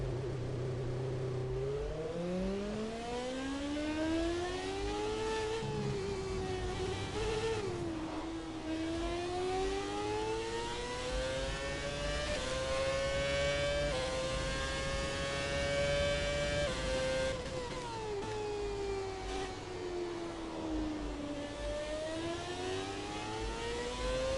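A modern Formula 1 racing car engine in the F1 2017 video game screams continuously, its pitch rising and falling through gear changes and revs over a long, steady run with no talking.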